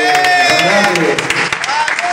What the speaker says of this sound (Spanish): Un aplauso para las chicas, para Wally.